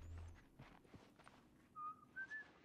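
Faint whistling in The Last of Us on PS3, a few short rising tones near the end over quiet shuffling background noise, with soft thumps earlier.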